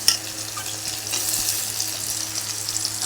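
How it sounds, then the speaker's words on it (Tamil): Onions sautéed until golden with green chillies and tomatoes added for chicken varuval: a dense, continuous sizzle and hiss from a hot pan, close and steady, with a brief sharper crackle at the start and no voices. "வெங்காயத்தை வதக்கின உடனே தக்காளி போடணும்"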